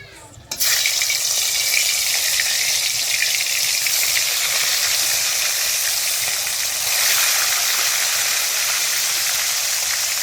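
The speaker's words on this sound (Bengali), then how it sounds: "সাদা তেলটা ভালো করে গরম হয়ে যাওয়ার পর আমি মাছগুলোকে এক এক করে ভেজে নিচ্ছি" Mrigal fish pieces dropped one by one into hot white oil in a karahi, a sudden loud burst of sizzling that then holds as a strong, even hiss close by, with no one speaking.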